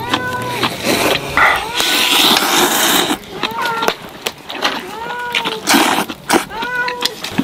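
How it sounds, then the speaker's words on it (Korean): A hungry cat meows repeatedly and loudly close by, with several drawn-out, rising calls spaced a second or two apart, mixed with clattering and rustling noises and some talk in the background. "고양이 배고픈 거 아니냐고요?"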